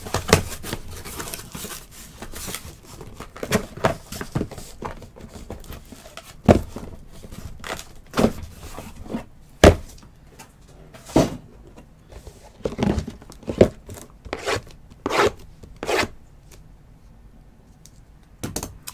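A fresh case of trading card boxes is sliced and torn open, giving a string of sharp, close scratching and ripping bursts at irregular intervals, with no voices.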